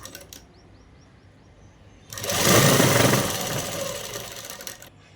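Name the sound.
sewing machine stitching dupatta edges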